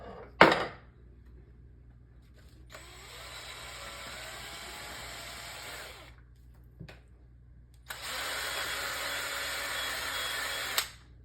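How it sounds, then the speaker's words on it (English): A power drill whirs in two sustained bursts, a steady grinding whine with brief clicks and knocks between runs, close by, as the drill bit reams out a hole in an articulated sculpting stand for art dolls. "I'm just going to run that drill bit through there again and get it cleaned up."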